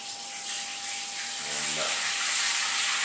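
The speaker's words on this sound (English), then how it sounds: "She's frying up some tacos, man." Steady broadband hiss and sizzle of tacos frying in a pan, continuous and fairly close, with a faint tonal hum and brief murmur partway through.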